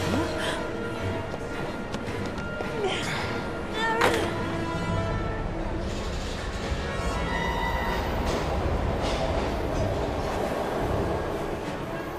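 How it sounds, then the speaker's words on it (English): A video game train rumbling and clattering past with metallic squeals and clunks, steady and fairly loud, with faint voices mixed in. "We've got to get on that train, Ethan."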